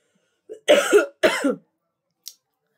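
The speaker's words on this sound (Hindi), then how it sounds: "खांसी हो रही है मुझे" A person coughs twice in quick succession, close and fairly loud, with a faint throat sound just before and a tiny click trailing after, otherwise quiet.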